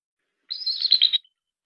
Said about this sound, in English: here again are the calls of the bald eagle